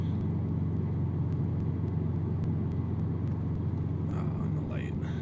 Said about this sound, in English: as a daily driving exhaust, it's not cumbersome at all, and this doesn't have a silencer in it at all